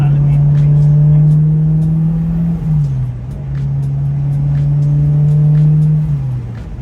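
Turbocharged Honda S2000 engine revving loudly and steadily, a strong sustained drone that dips briefly in pitch midway and again near the end, close to the car with no talk.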